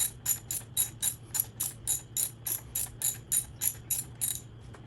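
A hand ratchet tightens a fastener during a front fork spring install on a 2022 Honda CRF125F dirt bike, about fifteen quick metallic clicks in an even back-and-forth rhythm, close and crisp over a faint low hum, with no talking.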